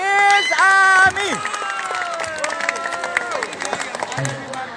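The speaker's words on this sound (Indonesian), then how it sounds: "Tepuk tangan buat Miss Ami." Audience applause at a school student council (OSIS and MPK) candidate debate: a burst of loud voices and cheering gives way to scattered clapping from the crowd, with shouts and chatter mixed in.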